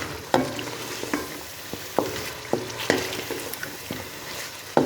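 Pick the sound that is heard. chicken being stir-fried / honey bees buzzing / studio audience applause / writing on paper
chicken being stir-fried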